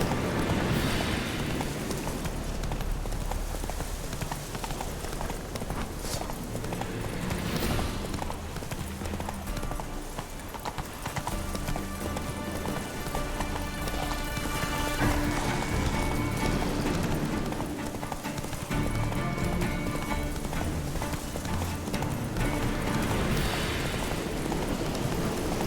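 A horse gallops in The Witcher 3, a rapid, rhythmic clip-clop of hooves running steadily under game music and ambient rumble, fairly loud and continuous.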